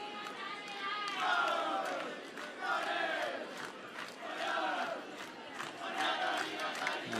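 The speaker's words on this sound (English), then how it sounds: "You know things are good even when the translator's clapping along and chanting in the dugout." Youth baseball crowd and players chant and clap rhythmically in the dugout at a Pony League World Series game, the chants rising and falling in repeated loud waves with voices blended together.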